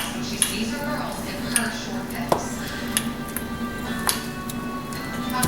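Minced garlic and olive oil are mashed in a small bowl, giving repeated light clinks and taps of utensil against the dish over a low kitchen hum, while a person talks throughout.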